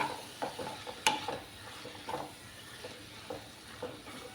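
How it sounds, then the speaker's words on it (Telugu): Spinach and green peas curry fries quietly in a pan, with a soft sizzle under repeated scraping stirs and an occasional sharp clink of a spoon on the pan. "పాలకూర కూడా దీంట్లో వేసేసుకుంటున్నానండి. అన్నీ మిక్స్ చేసుకుని బాగా వేయించుకొని ఇవ్వాలండి ఇవన్నీని."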